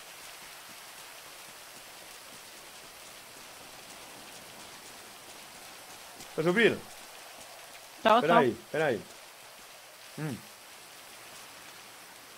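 Steady rain falls in a GTA V roleplay scene, a constant soft hiss of drops on surfaces running throughout, with short bursts of a man's speech breaking in over it.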